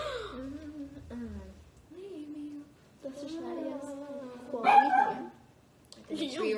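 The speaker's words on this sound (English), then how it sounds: "but it was your dog barking." A dog barks and yips in short bursts amid people talking, the barks fairly close and mixed in with the voices.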